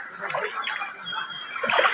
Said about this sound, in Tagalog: Lulusog na siya sa tubig.